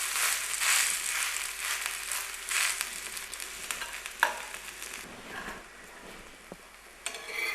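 A moong dal dosa sizzles in a pan and is flipped partway through. The crackle starts strong, then settles after the turn, with a few sharp scraping clicks from the spatula and no talk.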